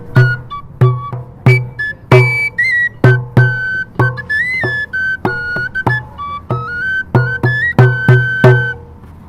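A tabor pipe and an African djembe drum played together by one musician: the bright pipe melody of short whistled notes rides over regular, punchy drum strikes, loud and close throughout.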